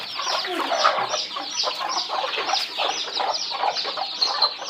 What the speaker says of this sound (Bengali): এটা একদম দেশি মুরগি,